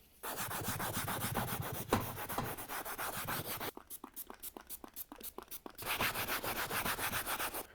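A scuff pad scrubs a leather car seat during cleaning, giving steady rhythmic back-and-forth rubbing strokes, close and fairly loud, with a sparser stretch of separate strokes midway before the fast scrubbing resumes.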